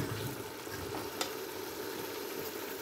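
Onions frying in a pan for a chicken potato curry, a dense continuous sizzle close by and fairly quiet, steady throughout with one faint tap of a utensil.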